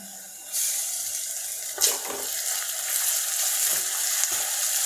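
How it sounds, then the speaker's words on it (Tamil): Crushed ginger and garlic sizzle with onions in a hot pan for an egg gravy, a close, steady frying hiss with a brief stirring scrape partway through. "அதையும் நல்லா பச்சை வாசனை போகிற அளவுக்கு வதக்கிக்கோங்க"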